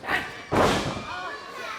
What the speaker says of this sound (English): Snapmare, big kick right to the small of the back of Cannon.